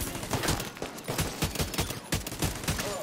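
AKM assault rifle fired in The Division 2 video game, a rapid automatic burst of sharp, punchy shots in an even rhythm, loud and close with no talking over it.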